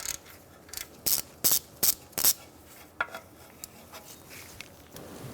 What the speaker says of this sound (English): Using a 10mm socket, we're going to take out our ABS sensor.